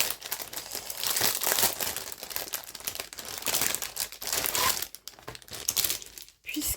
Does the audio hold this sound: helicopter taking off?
no